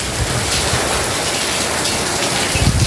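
Heavy unseasonal summer rain falls on a farm field, a dense, steady hiss of downpour that stays loud and unbroken throughout, with a few low thumps and knocks near the end.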